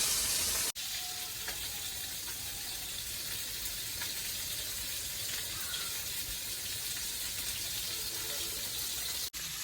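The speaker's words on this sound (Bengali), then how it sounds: "ওদিকে তো মাছ ভাজাটা হচ্ছে" Fish fries in a pan with a steady, faint sizzling hiss that runs unbroken for nearly ten seconds, with two sharp clicks near the start and end.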